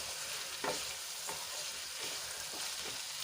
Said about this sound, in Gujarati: હવે બધું સરસ રીતે મિક્સ કરી લઈશું અને 4 થી 5 મિનિટ માટે આપણે એને સંતળાવા દઈશું